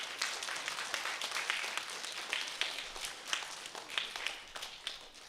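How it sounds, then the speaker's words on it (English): Audience applause at a third grade school holiday concert, a steady crowd of many hands clapping in a hall, fairly distant and even, with scattered sharper claps throughout and no talking. "can we give your parents a nice round of applause"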